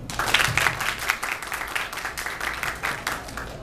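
Audience applause at a Harry Potter cosplay event, a steady wash of many hands clapping that sounds moderately distant and continues without a break.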